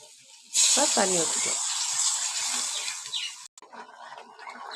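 A loud sizzling hiss bursts up as water is poured into a hot pan of frying onion, yam and chili powder, then settles into steady bubbling for several seconds before a brief cutoff.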